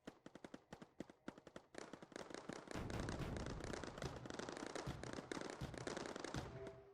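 Scatter turrets in Mindustry fire at flying enemies, first in sharp separate bursts of rapid popping shots, then merging into a dense, continuous crackling barrage of gunfire and blasts.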